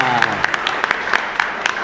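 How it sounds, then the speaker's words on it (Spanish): Applause rises from a congregation at a live mass in a chapel in Luque, a dense patter of clapping heard as a sung or spoken voice fades at the start. "fuerte aplauso para Ariana."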